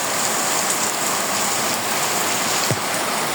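Heavy rain falls steadily over a village, a dense, even roar of drops on surfaces, loud and continuous with no voices, broken only by a faint short sweep near the end.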